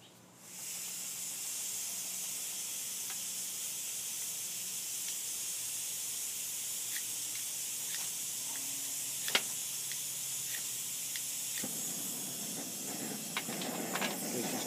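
A camping stove burner roars with a steady, loud hiss once turned up, holding constant for a long stretch with a few small clicks and taps on top.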